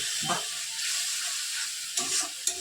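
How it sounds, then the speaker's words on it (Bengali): Spice paste sizzles and hisses in a hot pan while a little water is added and stirred in, a steady close frying crackle with brief scraping stirs and bursts of steam. "হালকা জল দিয়ে মশলাটা দিচ্ছি"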